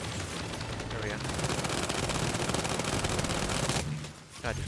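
Sustained automatic gunfire from Gears 5, a dense rattling burst running for several seconds with someone talking over it.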